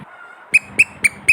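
A child's new sandals squeak in four evenly spaced, sharp chirps, one roughly every quarter second, close by in a quiet room.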